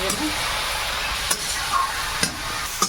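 Prawns and garden vegetables sautéed and stirred in a pan, making a dense, close sizzle with a few soft scrapes of the spoon over a short stretch.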